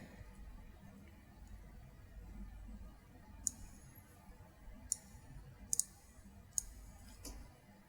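Mouse clicks in software, a handful of sharp, faint clicks spaced a second or so apart over quiet room noise.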